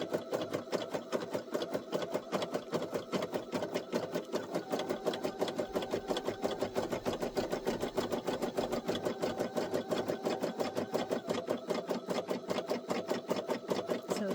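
A Brother SE1900 embroidery machine stitches out a coffee coaster with a fast, steady mechanical chatter of needle strokes that runs evenly and close throughout, with no talking.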